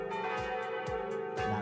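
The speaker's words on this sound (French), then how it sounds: "On a les petites cloches." Small bells ringing in a quick sequence of bright, clear strikes with long sustained overtones overlapping one another, close and fairly soft.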